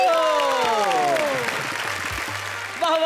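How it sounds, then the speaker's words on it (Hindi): Studio audience applause swells on a Hindi poetry show, dense clapping that starts under a fading musical tone and continues steadily. "और तालियां हो तो ऐसी हो।"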